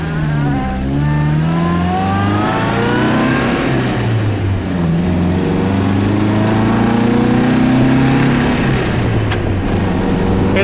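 A 1951 MG TD convertible's engine revs loudly while driving, its pitch rising and falling through the gears in one steady, close drone with no voices.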